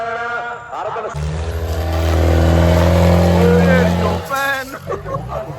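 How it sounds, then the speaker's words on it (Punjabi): A tractor engine revs up into a loud, deep, steady roar for a few seconds at a village tractor trolley-pulling competition, then drops away, with voices chattering before and after. "ਬਹੁਤ ਸੋਹਣਾ ਚੱਲਿਆ ਟਰੈਕਟਰ"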